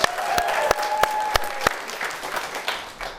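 An audience claps briefly to vote during a cooking demonstration, a quick burst of sharp, distinct hand claps that thins out after a second and a half, leaving a murmuring room.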